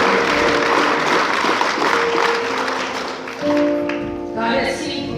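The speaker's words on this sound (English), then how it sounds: "Yeah, you can clap on that" A Baptist church congregation applauds steadily during a Living Legend program. The clapping eases in the last couple of seconds, when a voice and tonal sounds come in over it.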